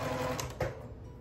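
A sewing machine stitches quilt wedges onto a secondary quilt for a barn star sampler block, with a clothes dryer and washing machine running in the background; the motor whirs steadily and close, with rapid needle ticking and no talking.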